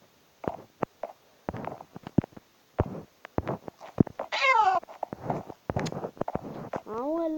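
A cat in Minecraft Pocket Edition meows in short rising calls between scattered clicks and taps, with someone speaking in between.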